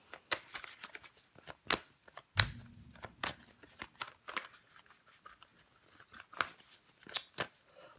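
Tarot cards turned over one by one on a table, giving sharp papery snaps and slides at irregular intervals with soft rustling between, close and fairly quiet.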